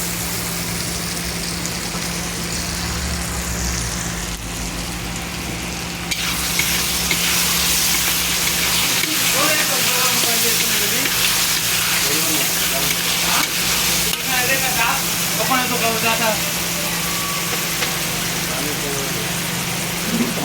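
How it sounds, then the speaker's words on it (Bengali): Chopped tomatoes are added to a pan and fry with a loud, steady sizzle while small fish cook in a hotel-style Bengali dish. A humming motor runs underneath, and voices speak over the cooking. "এর মধ্যে কিছু কেটে রাখা টমেটো দিয়ে দিলাম।"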